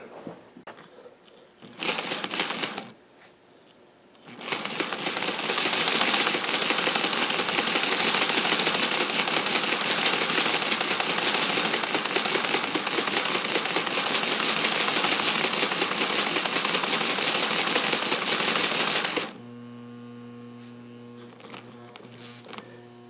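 The motor of a restored HO scale model train, left outdoors for two years, whirs in a steady high buzzing drone for about fifteen seconds after brief starts, then drops to a quieter hum.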